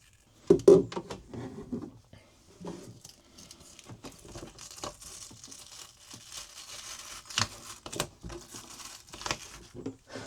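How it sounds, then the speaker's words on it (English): Heated flooring material in an RV being peeled up slowly after warming with a heat gun, giving soft crinkling and tearing with scattered sharper snaps, close and fairly quiet, no voices. "kind of peeling it up really slowly"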